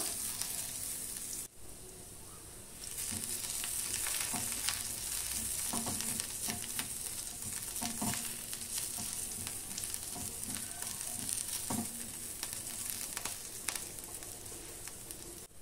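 Onion frying with ginger and garlic in a pan for Goa-style usal, a steady close sizzle with intermittent stirring scrapes and taps throughout, no talking.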